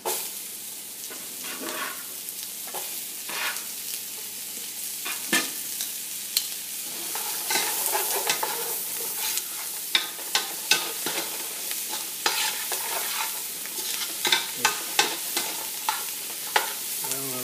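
Chopped celery fries in a pan with black pepper, giving a soft, steady sizzle broken by repeated scraping and clacking as it is stirred, close by and without speech.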